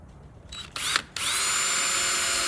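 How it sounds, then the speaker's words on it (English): A power drill pre-drills a screw hole in a wooden board for a butt joint, starting with short whirring bursts before settling into a loud, continuous high-pitched spin, close by with no talking. "I'm going to drill it"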